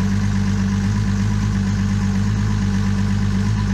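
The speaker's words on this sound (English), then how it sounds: "carburetor engine's running now." Twin carbureted outboard motors on a 1989 Hydrasports Vector 2500 center console, freshly repowered, idling with a steady, close, loud low-pitched rumble and a continuous even hum throughout.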